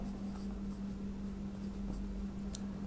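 Writing on a board during a geometry proof lesson gives a faint, steady scratching under a constant low electrical hum and room noise, with no speech.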